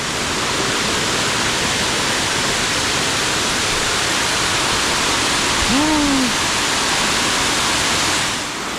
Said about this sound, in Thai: นี่คือน้ำตกนอตะ ค่ะทุกคน น้ำตกในรัฐกะเหรี่ยง